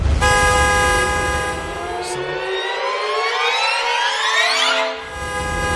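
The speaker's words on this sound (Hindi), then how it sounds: "सब लोग अगर कार के बाहर खड़े थे तो फिर ये हॉर्न कैसे बजा" A loud, sustained car horn blares, sliding in pitch and wavering over several seconds, close by with no talking.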